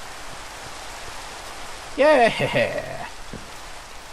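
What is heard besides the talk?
rain falling in a video game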